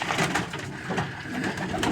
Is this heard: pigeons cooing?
yes